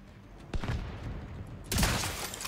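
Gunfire in the video game The Division 2 rings out in two sharp, loud bursts about a second apart, each trailing off into a rumbling decay.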